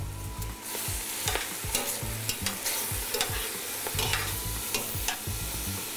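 Greens wilting in butter in a hot pan give a steady sizzle, with repeated scraping stir strokes at a regular pace, close and clear with no talking.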